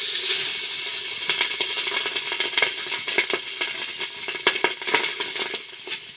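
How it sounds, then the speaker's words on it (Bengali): Rice tipped into a hot pot coated with ghee for a hilsa (ilish) biryani: a steady, close sizzling hiss with scattered crackles and soft clinks, no voices. "এবার ভাত দিয়েছি।"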